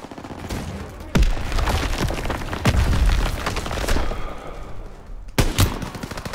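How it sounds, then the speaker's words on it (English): Bursts of gunfire in the World War II shooter Call of Duty WW2, sharp loud shots and rattling volleys at irregular intervals over a continuous battle din, with no speech. "Gunfire! You must be near our guys."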